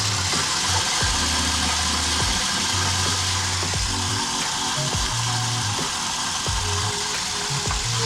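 Electric mixer whisking eggs one at a time into butter cake batter, a steady loud mechanical whir with pulsing low motor tones and periodic clattering of beaters against the bowl throughout.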